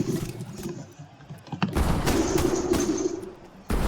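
Video game gunfire crackles in bursts of quick, dense shots, starting sparse and faint, then swelling into a louder sustained volley after a sharp thump, ending with another burst.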